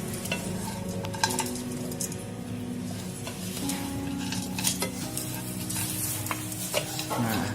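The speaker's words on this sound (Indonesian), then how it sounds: "Ini kita aduk aja terus supaya semuanya menjadi merata." A spice paste with potato and beef jerky is stirred in a pan over low heat, with continuous scraping and clinking of a utensil against the pan over a steady low sizzle, close and alone.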